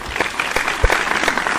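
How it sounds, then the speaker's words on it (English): A short burst of crowd applause, fairly loud, with individual claps popping out of a brisk, continuous patter for about a second and a half. "Let's give him an applause."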